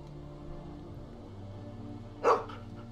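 A dog in The Walking Dead: Season 2 game gives a single short bark at moderate distance over a quiet, humming ambient background.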